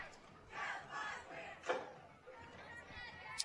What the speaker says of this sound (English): You can hear the cheer squad, the band to our right.